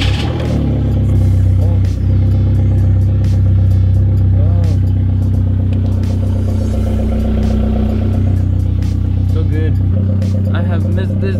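Car with a flathead engine starting up and revving, a loud close engine roar and rumble throughout, with people talking over it.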